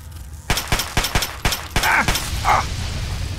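Rapid shots from a 10mm pistol in Fallout 3 crack out in quick succession: about seven sharp reports in a steady burst at close range, followed by a couple of brief high creature-like squeals.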